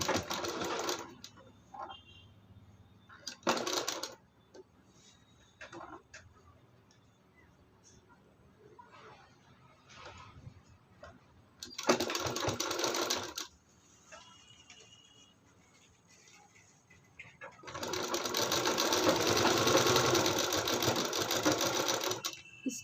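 A sewing machine stitches a blouse from the back side. A short burst comes early, then a longer run midway, and a loud sustained run near the end, with quieter stretches between them where someone talks.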